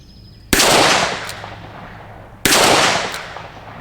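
Two loud, sharp shots from a Smith & Wesson 686+ revolver fired at steel plates, about two seconds apart, each with a trailing echo and no talking.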